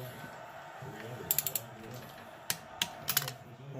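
Sharp clicks from a torque wrench tightening bolts on an Onan P220 engine, a few quiet, separate clicks and ratchet sounds over low background noise.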